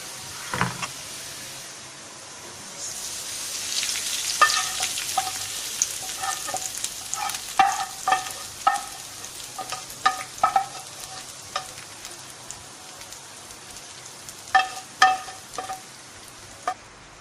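Browned onions go into a pot of haleem with a soft frying sizzle, followed by a long stretch of irregular spoon scrapes and knocks against the pot while stirring.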